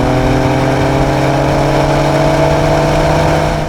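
Two performance cars racing, a Dodge Charger SixPack and a BMW M2 CS, with loud sustained engine drone and steady harmonic revving throughout, close and continuous, no talk.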